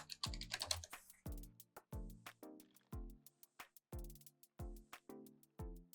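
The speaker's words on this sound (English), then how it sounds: "and then type in your password." A password being typed on a computer keyboard, a steady series of close, distinct key presses with short gaps, each stroke leaving a brief resonant ring.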